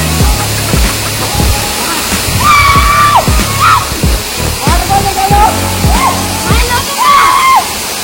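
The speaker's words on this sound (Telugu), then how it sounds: "గాయస్ చూస్తున్నారు కదా వాటర్ ఫాల్." The Rani Duduma waterfall rushes in a steady, loud roar, with someone talking over the falling water throughout.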